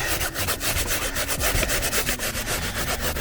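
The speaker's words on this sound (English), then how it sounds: "Got a nail brush, let's just give it another go." Steady, rapid scrubbing with a stiff nail brush against a hard surface, a continuous rhythmic rasping up close with no talking.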